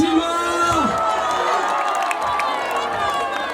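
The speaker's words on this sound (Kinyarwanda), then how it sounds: "mukomere amashyi Mutima" A stage show crowd cheers, shouts and claps in a loud, continuous wash of noise, with a sustained voice or tone audible in the mix.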